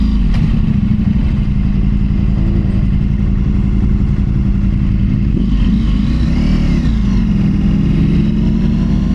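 A Ducati Pikes Peak motorcycle rides fast along a wet road with debris, its engine droning loud and steady under heavy wind rush, with a couple of brief rises in pitch.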